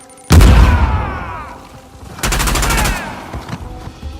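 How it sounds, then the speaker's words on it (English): In the video game Uncharted: The Lost Legacy, a grenade detonates with a loud deep boom that rumbles and fades, followed by a burst of rapid gunfire and a few scattered trailing shots. "Grenade!"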